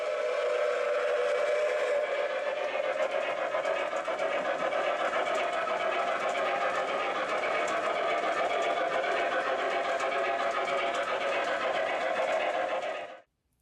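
A model steam locomotive with a smoking whistle gives a continuous, loud, steady whistling drone mixed with mechanical running noise for about thirteen seconds, then cuts off abruptly.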